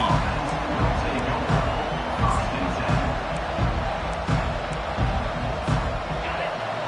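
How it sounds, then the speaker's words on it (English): A large college football stadium crowd at a Wisconsin vs Iowa game roars steadily with a dense wash of noise, occasional louder swells and whoops rising from the constant din. "This crowd bringing the energy and noise early."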